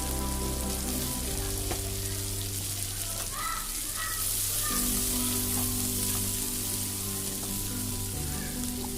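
Green peas sundal sautéing in a pan, a steady soft sizzle and crackle under a continuous low background hum, with occasional scraping stirs.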